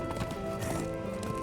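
Horse hooves clip-clop in Darksiders 2, a quick run of steady, close hoofbeats over a continuous game soundscape with a faint neigh-like tone.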